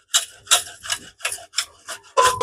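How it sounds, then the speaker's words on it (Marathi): An apple is rubbed against a grater in seven quick rasping strokes, each a short scratchy burst with a brief pause between, close and fairly loud with no talk. "आपण आता ऍपल किसून घेऊ"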